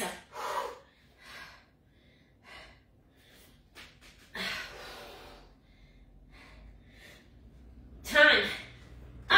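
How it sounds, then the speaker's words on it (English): Deep breaths drawn in and pushed out during a boxing workout, audible as a few breathy gasps and exhales spread through the clip between a coach's spoken cues. "Breathe out and reset, strong, stable, deep breath in and exhale."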